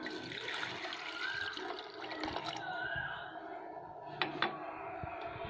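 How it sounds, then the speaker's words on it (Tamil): Water poured into a glass for a lemon mint juice, a steady liquid splash and trickle that is fairly quiet and close, with a couple of sharp clinks near the end. "தண்ணி ஒரு 3/4 டம்ளர் ஊற்றுறேன்."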